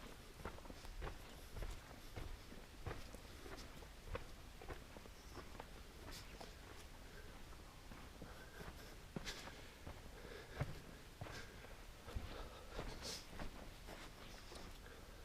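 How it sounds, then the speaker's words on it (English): Footsteps crunching over rock in a silent cave with a broken-down ceiling area, a slow, uneven series of soft close steps and scuffs against near-silence, no talking. "Except for my footsteps, there's no natural noise in here."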